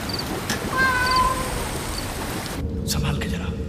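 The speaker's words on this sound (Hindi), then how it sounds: "ये तो बिल्ली है।" A cat meows briefly in a horror film over a steady rain-like hiss and low rumbling background.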